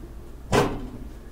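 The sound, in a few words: cabinet door of an outdoor BBQ work table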